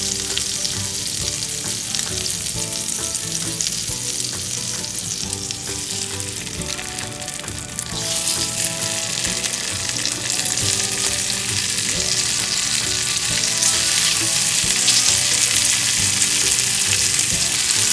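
Chicken breast sizzles in a small pan, a loud continuous frying hiss that swells brighter partway through, with faint stirring underneath and no talk.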